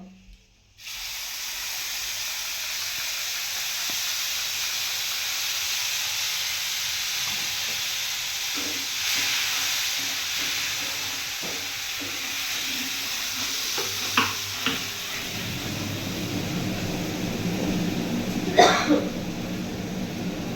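Chopped ginger, cumin, chili, tomato, poppy seed and melon seeds added together to hot oil in a pan for a fish curry, giving a loud, steady sizzle and hiss with occasional stirring clatter near the end.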